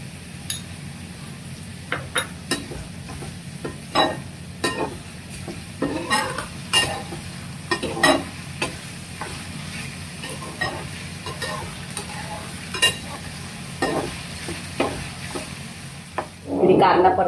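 Chopped onion with a pinch of salt sautéing in a pan while making boiled-egg bhurji, a soft steady sizzle beneath sharp clinks and scrapes of a spoon stirring against the pan, louder clatter near the end.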